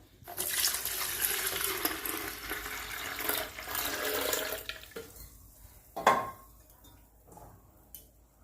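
Jaggery-soaked water pours steadily in a continuous splashing stream for about five seconds, then stops, followed by a few brief knocks and clatters of a vessel set down.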